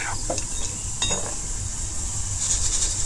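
Crispy raw-mango snacks frying in hot oil, a bright continuous sizzle with a few clinks of a utensil against the pan near the start, close and steady, no talking.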